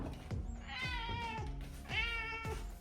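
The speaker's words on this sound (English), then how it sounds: "And then my cat Boots always gets jealous when she gets to have a treat, so I'll give him a squeezy today too." A pet cat meows repeatedly for a treat, several drawn-out close meows in a row, loud and clear with no talking over them.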